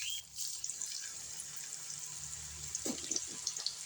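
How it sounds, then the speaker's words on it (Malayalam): Okra slices go into hot oil and fry with a quiet, steady sizzle, broken by a few brief crackling bursts near the end, close up and with no talking. "അപ്പം നമുക്ക് ചൂടായ എണ്ണയിലേക്ക് വെണ്ടയ്ക്ക കുറച്ചായിട്ട് ഇട്ട് കൊടുക്കാം."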